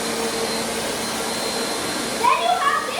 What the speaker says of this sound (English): This will turn on the vacuum.